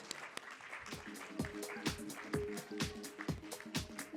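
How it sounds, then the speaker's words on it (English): An audience at a women's entrepreneurship awards event claps for an awardee walking the stage, a soft, steady ripple of many hands with a faintly rhythmic pulse, heard at moderate distance. "Let's give Bindu a big round of applause."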